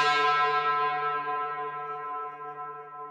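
A second synth layer in an FL Studio dark liquid drum and bass track, one bell-like tone that strikes bright and slowly decays over about three seconds, fairly quiet and alone.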